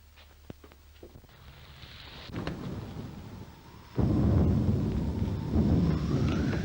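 Wind and rumbling thunder swell into a loud, sustained roar of a storm, with no voices.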